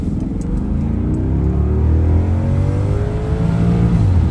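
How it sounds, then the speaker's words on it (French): An Audi S8 in sport mode accelerates hard toward 80–90 km/h with a broken hose, its loud engine rumble climbing steadily in pitch for several seconds, close and continuous with no talk. "On va faire une accèle jusqu'à 80-90."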